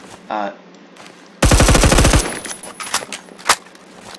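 A .50 cal Beowulf rifle fires in the video game Phantom Forces, a loud, close burst of rapid shots followed by scattered single reports, with brief speech-like sounds before it.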